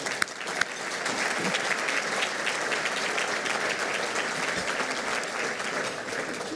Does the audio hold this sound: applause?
yes